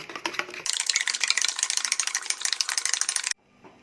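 Eggs beaten and stirred with onion and green chili for a ladle omelette, a fast, even rattle of utensil against bowl that runs for about three seconds and then stops abruptly.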